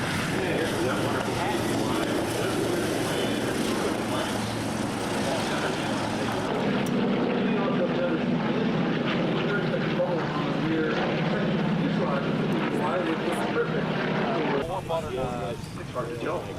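Douglas SBD Dauntless WWII dive bomber flying past at an air show, a steady loud propeller engine drone that swells and shifts as it passes, with a crowd and announcer talking throughout.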